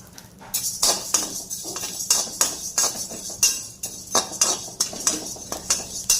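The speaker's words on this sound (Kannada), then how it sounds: "ಸ್ವಲ್ಪ ತೆಗೆದು ಇದನ್ನು ಪ್ರತಿ ಅಕ್ಕಿನೂ ಪಟ ಶಬ್ದ ಆಗಬೇಕು, ಅಷ್ಟು ತನಕ ಹುರಿಬೇಕು" Coarse rice grains roasting in a very hot pan for Kannada sweet laddu, giving repeated crisp ticks and clinks in uneven bursts, near and fairly steady throughout.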